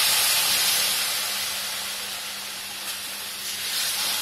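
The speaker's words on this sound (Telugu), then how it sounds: "ఇప్పుడు పాలు పోస్తానండి." Milk is poured into semolina fried in ghee, raising a loud, steady hiss of sizzling close to the pan that slowly fades a little.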